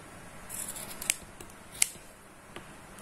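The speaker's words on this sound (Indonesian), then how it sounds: "Jadi kita potong aja kayak gini ya." Scissors cut T-shirt fabric scraps into yarn strips, giving a few crisp, separate snips at an easy pace over a quiet background, with no speech.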